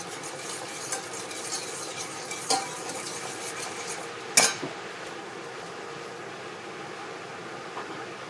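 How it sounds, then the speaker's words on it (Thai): A Thai-style tamarind steak sauce is stirred in a pot with a spoon, making continuous soft scraping and swishing with a few sharper clinks against the pot. "คนทุกอย่างให้เข้ากันก่อนนะคะ"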